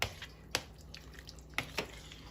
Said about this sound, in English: We'll just give it a nice stir.